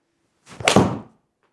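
A golf club strikes the ball during a club fitting session, a single crisp impact that is fairly close and clear, with a short ringing tail and no talking.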